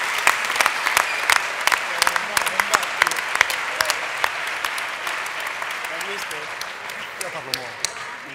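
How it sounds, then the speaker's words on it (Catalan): An audience at a Vic sports awards gala applauds Titi Roca, captain of Club Patí Vic roller hockey club, with dense, sustained clapping from a crowd and sharp individual claps standing out, slowly thinning toward the end. "un aplaudiment per ell"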